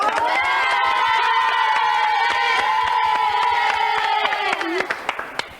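A studio audience of children at a French TV show cheers with a sustained shout and scattered clapping that keeps going throughout, with some sharper claps near the end.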